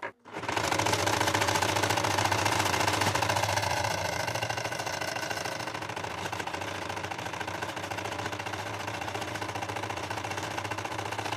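An Elgin Genius Plus sewing machine runs a J stitch with reverse stitching at the start and end. It makes a loud, continuous, fast mechanical whir that holds steady for about ten seconds after a brief start.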